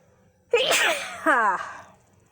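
A close, loud sneeze in two bursts, a sharp inhaled onset followed by a forceful second expulsion, with quiet before and after, beside beehives.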